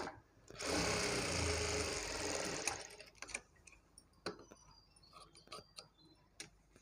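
A sewing machine runs in one quick, fairly quiet burst while top-stitching a sleeve joint on a garment, followed by scattered light clicks and ticks of fabric handling.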